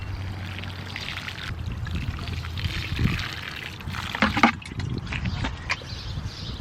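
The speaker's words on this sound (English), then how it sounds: "Once I get them watered in," Water poured over newly planted herbs such as parsley and rosemary in a garden container, a soft trickling pour with a few splashy bursts, fairly quiet and close.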